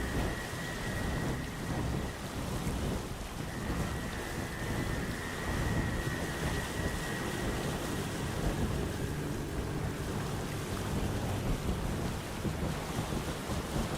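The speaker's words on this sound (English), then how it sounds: "the ever-raging storm that surrounds the islands" A raging storm around islands in the video game Windbound roars steadily, with heavy rain and wind gusts and low thunder rumbling beneath, continuous and enveloping with no voices.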